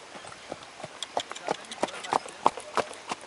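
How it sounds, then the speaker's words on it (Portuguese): Horse hooves clip-clop in a steady walking rhythm, a series of about a dozen sharp, evenly spaced strikes at moderate distance, moderately loud, with no talking. "Você já andou, Gilmar, nesse cavalo?"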